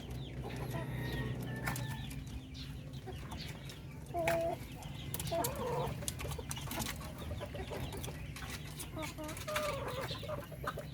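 Darag hens cluck steadily while eating feed, with soft overlapping calls from several birds close by and a brief wing flutter midway, over a low constant farmyard hum.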